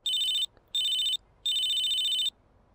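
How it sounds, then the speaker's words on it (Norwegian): Phone ringing in GTA San Andreas Definitive Edition: three bright electronic ring bursts, two short then one longer, with brief gaps of quiet between them and no talking. "Telefon. Skal du ta den,"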